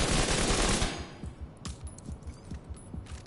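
Automatic weapon fire in the video game The Division 2: a dense, loud burst of rapid shots opens, then continues as a steady rhythmic string of sharp gunshots.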